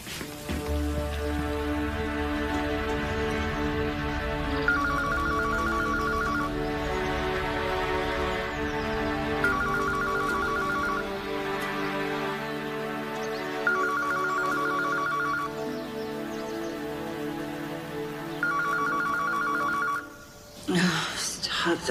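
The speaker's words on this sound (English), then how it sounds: "Stop that phone from ringing." A telephone rings in four repeated bursts of bell-like trilling at regular intervals, heard indoors over soft background sound, with a brief clatter near the end.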